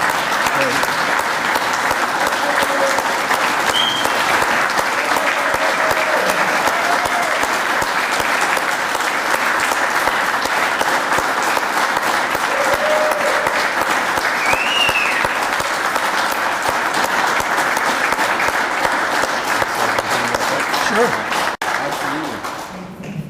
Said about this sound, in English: would everyone rise and give them a standing ovation for everything they do for us?